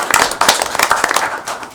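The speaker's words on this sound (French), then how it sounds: "On peut les applaudir encore." A municipal council meeting audience gives a short burst of applause, a brisk patter of hand claps from a modest crowd, fairly close and loud, with no talking over it.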